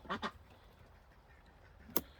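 Ducks quack outdoors, two quick calls close together at the start and a single sharper one near the end, fairly close but not loud over a quiet background.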